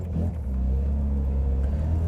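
A 1980 Mazda RX7 with a rotary engine accelerates in third gear at around 40 mph, a steady low engine drone with road rumble heard from inside the car, continuous and moderately loud.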